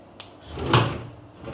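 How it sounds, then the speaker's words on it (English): Hotel room drawers in a Pattaya lodge slide and bump shut, a light knock followed by a louder wooden thud, close and alone in a quiet room. "Yep, a couple of drawers."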